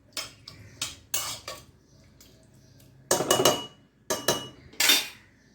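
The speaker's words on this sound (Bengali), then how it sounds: "ঘি দিয়ে নাড়িয়ে চাড়িয়ে নামিয়ে ফেলবো" Dal with ghee being stirred in a pot: a few bursts of metal spoon scraping and clinking against the pot, separated by quiet gaps, close by with no talking.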